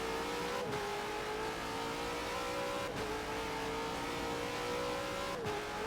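V8 race car engines in a sim racing league at Indy, a steady droning roar of several cars running side by side at high revs, pitch dipping sharply as they shift gears, no voices.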